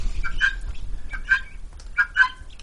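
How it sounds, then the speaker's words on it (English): Guinea fowl calling outdoors in a few harsh, chattering bursts at a moderate distance, spaced out over a low background rumble. "if you wonder what the crazy sound is out there, that's the guinea fowl"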